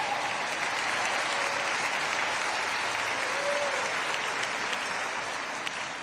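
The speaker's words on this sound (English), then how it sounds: "A huge round of applause," A large audience at an awards ceremony applauds in a steady, dense wash of clapping that holds evenly throughout without a break.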